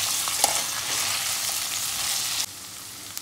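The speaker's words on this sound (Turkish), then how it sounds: "Artık kalan patateslerimi ve bezelyemi ilave edip kavurmaya devam ediyorum." Carrots, potatoes and peas sauté in a pan for a Turkish meatball soup, giving off a continuous close hiss and sizzle with a few stirring clicks, and the sound dips in level near the end.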